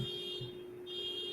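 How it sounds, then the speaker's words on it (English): Steady electronic car alarm tone droning alone at a constant pitch throughout, with a high whine above, heard faintly as if from outside during a sports pregame show. "Damn it, Samir, with your freaking car alarm"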